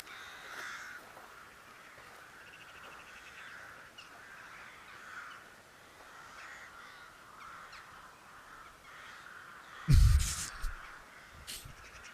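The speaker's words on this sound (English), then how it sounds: "these crows are pissed" Crows cawing, mostly faint and distant over a soft background for most of the span, then a sudden loud, harsh burst of calls near the end.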